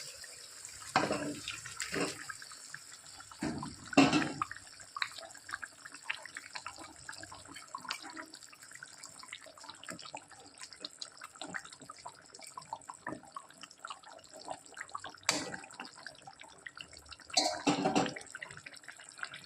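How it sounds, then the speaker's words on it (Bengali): Silver carp curry gravy simmering in a pot, with soft irregular bubbling and popping up close and occasional louder splashy bursts. "ঝোল টকবক করে ফুটছে"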